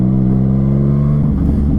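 A Yamaha MT-09 motorcycle engine runs loud and close in a steady, deep growl that rises as the bike accelerates, its pitch shifting near the end.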